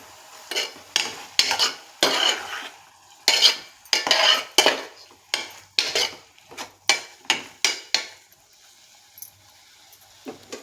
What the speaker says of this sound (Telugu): ఇవన్నీ ఒకసారి బాగా కలిసేలా కలుపుకుందాం.